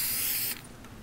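A car being spray painted in the Fortnite video game, a loud hissing spray burst that cuts off abruptly halfway through, followed by faint mechanical clicks.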